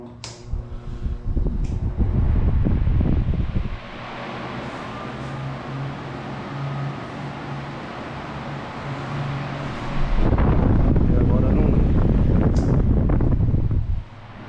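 Arno Ultra Silence Force 40 cm table fan running on speed 2, a steady broadband whoosh of moving air with a low hum, louder gusty stretches at the start and end around a calmer middle, no talking.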